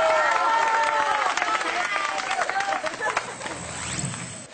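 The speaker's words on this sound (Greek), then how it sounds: "Και τώρα ένα χειροκρότημα για τους νέους μαθητές μας." Applause and crowd noise at a school assembly welcoming new students, a fairly faint, scattered patter of clapping with some murmuring that lasts the whole few seconds.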